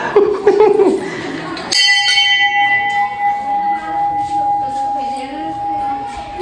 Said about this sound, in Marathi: हा घंटा